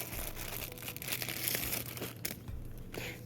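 Plastic zipper bags for resin crafts, some black and some with windows, crinkle and rustle steadily as they are handled during an unboxing of a cheap online order, with scattered crunchy crackles and no talk.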